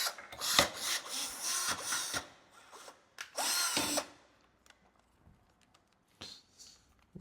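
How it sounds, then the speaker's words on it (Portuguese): Cordless drill whirring in several short bursts, its bit slipping in the chuck, followed by a few sparse mechanical clicks and taps in an otherwise quiet room, with no talking. "a gente já percebe que a broca começou a escapar do mandril"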